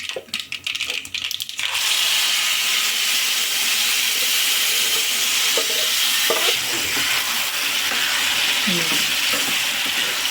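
Gongura leaves dropped into a browned tempering sizzle loudly and steadily in hot oil, with occasional scraping stir clicks from a spatula against the pan after a brief quieter start.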